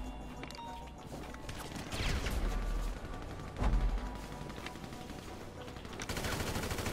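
Gunfire in the video game GTA Online: bursts of rapid automatic shots and a few heavier single blasts, moderately distant, over a constant background of game noise.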